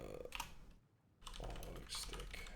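Rapid typing on a computer keyboard, quick clustered keystrokes close by that pause briefly and then resume.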